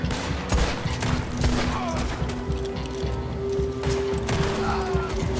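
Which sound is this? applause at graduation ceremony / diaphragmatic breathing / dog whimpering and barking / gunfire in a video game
gunfire in a video game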